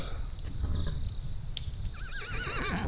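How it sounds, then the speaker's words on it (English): A horse whinnies close by with a rising, wavering neigh near the end, over steady clip-clop hooves and ambient outdoor noise. "Good horse."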